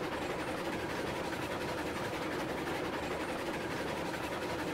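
A Heisler geared steam locomotive runs in the Railroads Online video game, a steady dense rumble and rattle of a moving train with faint clacking, continuous and even throughout.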